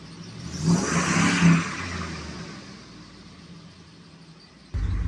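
A third-generation Ram pickup's Hemi V8 idles roughly, swelling briefly as the revs lift and then settling into an uneven low idle. A louder, closer engine burst follows at the very end.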